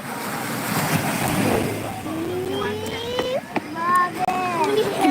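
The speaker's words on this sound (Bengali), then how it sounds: "ভালো লাগছে তোদের ঢেউটা" Ocean waves washing onto Digha beach at night make a broad, rolling surf roar, joined midway by rising whistle-like tones and faint background voices.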